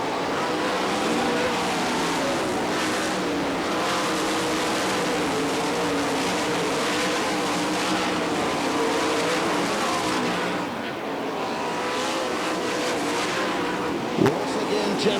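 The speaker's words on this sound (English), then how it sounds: "Lapping cars on his way through, checking out from the second place runner, Joe Saldana, the 17 in second." Sprint cars race around a dirt track at the All Star Circuit of Champions Winternationals in Gibsonton, Florida, engines roaring in a constant loud drone as cars pass, with an announcer talking throughout.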